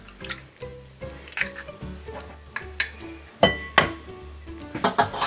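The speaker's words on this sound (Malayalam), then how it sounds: "ഇനി നമുക്കൊന്ന് എഗ്ഗ് ഒന്ന് ബീറ്റ് ചെയ്തെടുക്കാം" Eggs beaten in a bowl for a Chinese omelette: close, irregular clinks and taps of a utensil against the bowl, with wet slaps in between, quickening toward the end.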